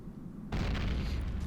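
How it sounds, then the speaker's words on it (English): A remote grenade in the Combat Arms shooter goes off with a sudden loud boom partway through, then a sustained rumbling blast that fills the rest of the moment. "I set up the remote grenade in case I mess up and they get close enough to me"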